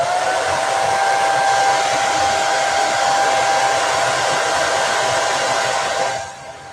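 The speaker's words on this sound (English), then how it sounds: "I'm going to grab my hair dryer and make sure that these are dry" Hair dryer blowing on chalk paste over a faux pallet sign, a loud steady whirring hiss with a constant motor whine, heard close and alone before it drops off at the end.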